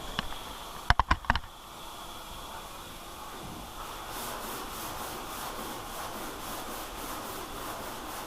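Steady hand block sanding of primer with sandpaper, a continuous close-up rubbing hiss after a few sharp taps at the start, running without talk.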